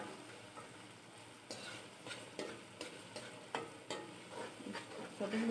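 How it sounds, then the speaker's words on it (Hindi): Green chillies frying in oil in a pot for matar pulao, a soft sizzle broken by repeated spoon scrapes and clicks against the pot, fairly quiet and close. "सब्ज़ मिर्चों को 2 मिनट तक हम लोग फ्राई करते हैं ऑयल के अंदर"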